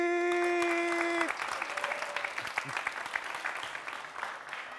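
TV studio audience applauds for a singer, a dense patter of clapping that starts after a held sung or musical tone and continues steadily at moderate level for several seconds.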